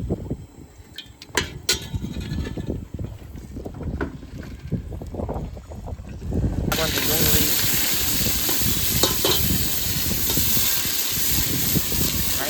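Tempering spices hit hot oil on a gas stove aboard a fishing boat at sea, breaking into a loud, steady sizzle halfway through after earlier clatter and someone talking.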